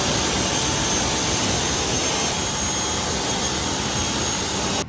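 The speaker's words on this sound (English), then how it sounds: "I can just take the pressure washer and just rinse it off." Pressure washer rinsing a scrubbed car wheel: a loud, steady, broadband hiss and roar of spraying water that runs unbroken for about five seconds, with no talk.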